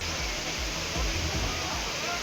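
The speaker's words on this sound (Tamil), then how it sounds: "தென்காசி மாவட்டத்தில் உள்ள குற்றால அருவியில் நீர்வரத்து சீரானதை தொடர்ந்து சுற்றுலா பயணிகள் குளிப்பதற்கு அனுமதி வழங்கப்பட்டது" Courtallam waterfall in Tenkasi district, Tamil Nadu, roars as a dense, steady, loud rush of falling water, filling the whole moment without a break, with a voice talking over it.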